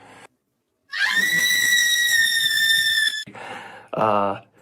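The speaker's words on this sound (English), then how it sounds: "smashing some egg cartons and screaming at the top of her lungs" A woman screams at the top of her lungs in a long, loud, piercing shriek after a short pause, followed by a shorter, wavering cry.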